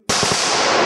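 A sharp, loud crack of a Kalashnikov rifle firing live rounds at a 50-metre range during youth field training, with a brief reverberating tail.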